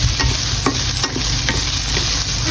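Onion fries in a hot pan, with a loud, continuous close sizzle and crackle and the repeated scrape of stirring.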